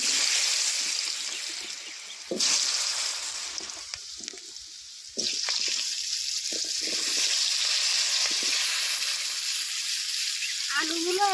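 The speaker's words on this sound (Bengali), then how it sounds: "এবার লাল লাল করে ভেজে নেব আলুগুলো" Sliced potatoes frying in hot oil with a little salt and turmeric, a steady close sizzle running throughout, with some louder bursts partway through and faint clinks near the end.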